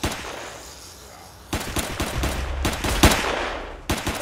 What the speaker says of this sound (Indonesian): Jadi ada temannya untuk kita nembakin si zombie yang nakal-nakal ini